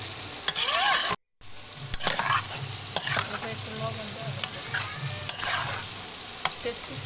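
Pasta being stirred with tomato paste in a pan, a continuous close sizzle broken by sharp scraping and clinking strokes of a spoon against the pan, with one brief dropout near the start, no talk.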